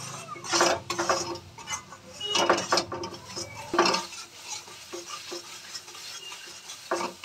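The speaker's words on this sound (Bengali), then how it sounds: "আর দুটো কাঁচা লঙ্কার গোটা দিয়ে এটাকে লাল করে ভেজে নেব। মশলাটা কষিয়ে নেব।" Spice masala with two whole green chillies is stirred and fried in a pan for chana masala, giving a scraping spoon-against-metal rhythm over a light sizzle, close and moderately loud, with no talking.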